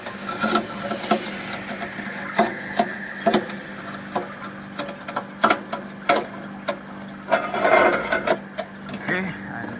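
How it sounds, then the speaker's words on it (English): On a one-ton-per-day seawater flake ice machine of split design, the ice blade scrapes across the frozen ice layer: a steady mechanical hum under repeated scraping and crackling bursts, close and moderately loud. "We can hear the sound when the ice blade works on the ice layer."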